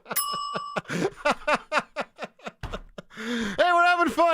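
A bright bell on a live Denver sports radio show rings once at the start, a clear metallic tone that quickly gives way to talk and laughter from the hosts.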